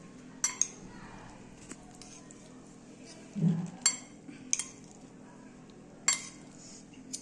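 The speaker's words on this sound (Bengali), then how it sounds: "স্পাইসি সসটা দিয়ে আমি এটাকে ভালোভাবে মেখে নেব।" Spicy ramen being mixed with sauce, with utensils clinking and scraping against a bowl or plate in a quiet kitchen: scattered sharp metallic ticks and one soft thud midway, separated by gaps of near-silence.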